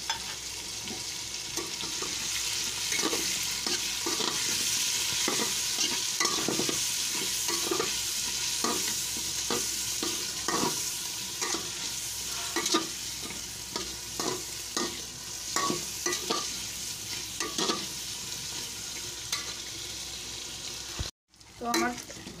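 Spice paste for chicken pulao frying in a pan with yogurt being stirred in, a steady close sizzle broken by frequent scraping stirs, with no talking.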